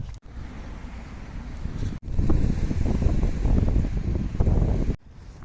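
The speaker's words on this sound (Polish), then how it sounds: "No jest wiatr, jest wiatr" Outdoor wind buffeting a microphone on a sunny day in Gdańsk, a steady low rumble that swells louder midway, with no talking.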